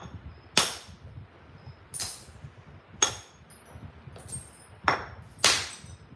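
Stone is struck in flint knapping, with five or six sharp, crisp clicks spaced about a second apart, each cracking off a flake, close by over faint background rustle.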